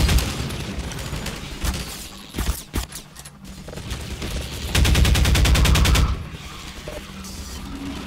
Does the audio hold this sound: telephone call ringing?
no